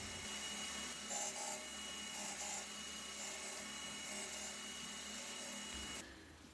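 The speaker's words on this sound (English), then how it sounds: "Cleaning up the last surface without changing the height adjustment on the surface grinder" A surface grinder takes a final light pass across steel toolmaker's magnets, giving a steady, fairly faint abrasive hiss and whir that runs unbroken for several seconds before dropping away at the end.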